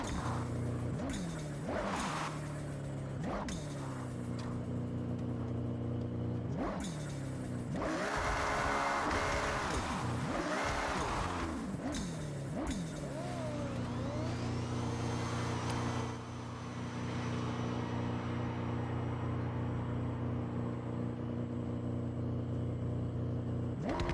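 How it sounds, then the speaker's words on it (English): Car engine in the Forza Horizon 6 racing game, revving at a race start with repeated surging throttle blips and held high revs, then settling into a sustained loud drone, close and alone. "Get your revs up, and on green, release the handbrake and go."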